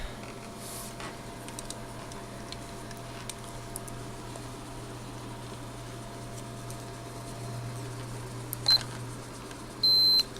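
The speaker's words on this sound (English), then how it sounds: "We put it on beep continuity check here." A steady electrical hum runs throughout, broken near the end by two short, high beeps from a multimeter on continuity check, the second slightly longer.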